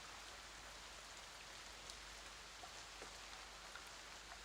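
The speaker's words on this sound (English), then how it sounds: "The rain patters on the patio that's covering the small cafe you're sitting at." Rain patters steadily on a patio roof sheltering a small cafe. The soft, even wash of drops stays constant, with occasional slightly louder individual drips and no other sounds.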